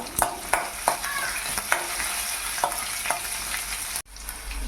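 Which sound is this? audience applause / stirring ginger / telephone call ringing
stirring ginger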